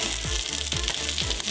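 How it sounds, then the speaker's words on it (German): Fried potatoes sizzle steadily in a hot pan, loud and close, with a few dull stirring scrapes and no talk. "Bratkartoffeln immer gerade so, dass alles bedeckt ist, reinmachen in die Pfanne"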